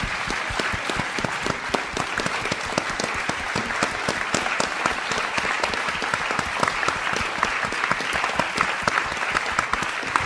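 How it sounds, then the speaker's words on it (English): An audience at a Les Misérables panel event gives a long, even round of applause, many hands clapping densely and steadily at moderate loudness without a break. "if we could please give her a round of applause for the work that she's put in"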